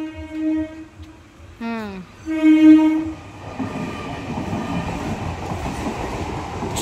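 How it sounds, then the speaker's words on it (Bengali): A train passing a railway level crossing gate at Baruipur, with long loud horn blasts near the start, then a rising steady rumble of the wagons rolling past close by. "ট্রেন পাস হচ্ছে"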